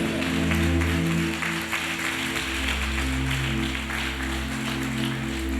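Loud, dense clapping from a congregation at a Hosanna Christian worship gathering, steady and continuous for the whole stretch over sustained music underneath.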